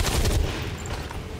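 A single gunshot in XCOM 2 cracks loud and close at the start, then fades into a low rumbling tail and quiet ambience.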